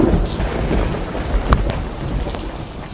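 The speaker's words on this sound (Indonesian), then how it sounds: "Bu, hujan Bu." Steady rain falls on a surface during a thunderstorm, with a few short thunder cracks near the middle standing out above the constant downpour. No one talks.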